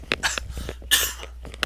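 One person coughs several times in quick, close bursts, with a throat-clearing quality and a steady low hum underneath.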